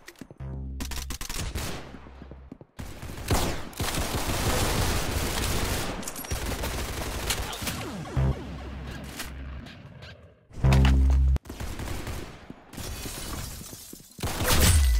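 Rapid bursts of gunfire from the Roblox shooter Arsenal on an aircraft map, with loud clustered volleys, sharp shattering cracks and brief pauses between exchanges, no talk over it.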